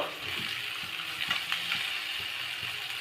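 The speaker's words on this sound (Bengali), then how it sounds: "এখন সমস্ত সবজিগুলো আমরা হালকা ভেজে নেব।" Chopped onion, capsicum, slit green chillies and diced tomato sizzle lightly in a pan for chilli cauliflower, a steady hiss with occasional scraping ticks of stirring, close and continuous, no voices.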